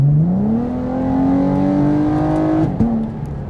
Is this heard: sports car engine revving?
yes